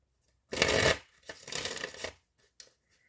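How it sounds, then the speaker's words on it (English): Tarot cards are shuffled by hand in two quick riffling bursts, close and crisp, followed by a couple of small taps; no voices. "We'll do one more shuffle."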